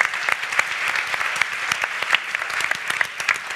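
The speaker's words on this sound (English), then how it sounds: "So now we give them an applause and feel welcome." A conference audience at a session on implementing the 2030 Agenda applauds steadily, with many hands clapping in a continuous patter and scattered louder claps close by.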